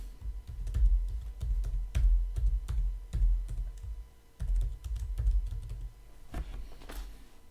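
Typing on a computer keyboard in short bursts of crisp, close keystrokes with brief pauses between runs, no voices.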